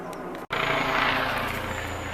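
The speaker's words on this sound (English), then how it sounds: "police helicopter, man. They're not half loud." A loud, rumbling engine drone fills the air, broken by a brief cut, then continues as a police helicopter thrumming close overhead.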